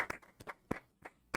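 Applause sound effect dropped into a podcast: a short, faint patter of a few separate claps at uneven spacing, thin and sparse rather than a full crowd.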